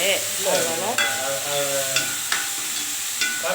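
Garden vegetables sautéing in a pan on a stove, with a dense, loud sizzle and a few spoon scrapes and taps while they are stirred, close up and continuous.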